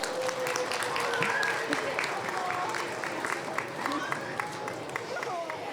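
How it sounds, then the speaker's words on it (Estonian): An audience at a school charity playback show claps steadily for an award winner, sharp individual claps over a continuous patter, with cheering and raised voices mixed in. "Aplaus Raunole!"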